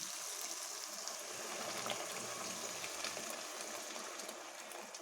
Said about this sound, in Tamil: 3 கப்பு தண்ணி கொதிக்க வச்சுருந்தேன், அதை ஆட் பண்ணிக்கலாம்